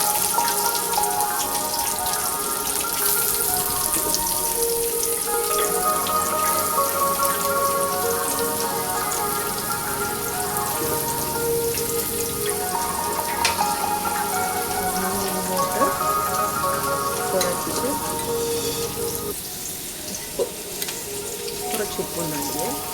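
Finely chopped onion fries in a pan for vegetable pizza, giving a steady close crackling sizzle with scattered popping that continues throughout and eases slightly near the end.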